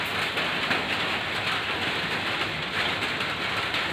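Steady heavy rain falling at a construction site during lightweight brick plastering, a dense continuous hiss with no pauses or voices.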